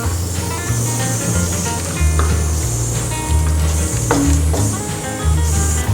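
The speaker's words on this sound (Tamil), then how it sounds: "இப்போ வந்து சிக்கன் குழம்பு நல்லா கொதிக்குது." Village-style chicken kulambu bubbles and hisses in a pot as it is stirred, a continuous sizzling sound over background music.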